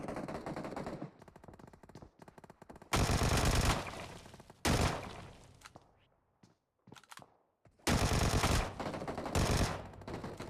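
Bursts of rapid automatic gunfire from a Vector submachine gun in the BGMI battle royale game, loud and close, several long sprays separated by short gaps and fainter scattered shots.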